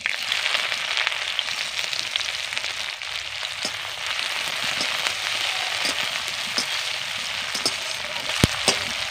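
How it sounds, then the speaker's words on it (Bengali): Chopped onions frying in white oil with dried chillies and five-spice seeds, a loud, constant close-up sizzle with scattered small pops and crackles throughout. "এবার দিয়ে দিচ্ছি কেটে রাখা পেঁয়াজ।"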